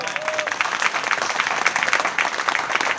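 An audience at a spiritual gathering at an ashram claps in a steady, moderately loud burst of applause, many hands blending into a continuous patter with no talking over it.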